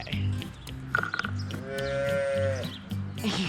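A dairy cow lowing nearby in a long, rising and falling moo, with people's voices and farm background noise around it.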